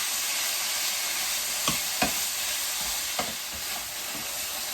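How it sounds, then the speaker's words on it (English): Pieces of pork brown in a frying pan with a loud, steady sizzle, broken by a few distinct scraping knocks as they are stirred. "Make sure you keep stirring so that it's evenly coloured all over"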